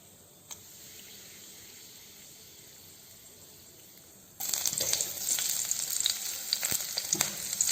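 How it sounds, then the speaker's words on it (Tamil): Spices drop into hot oil for a mixed vegetable curry, and a quiet hiss suddenly bursts into loud, crackling, spitting sizzle that stays intense and close until the end. "எண்ணெய் காஞ்சதும் கொஞ்சம் ஸ்பைசஸ் ஆட் பண்ணிக்கலாம்"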